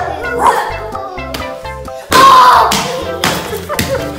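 A dog barks several times close by indoors in a home in Mexico, loud yips and woofs mixed with thumps and people's voices.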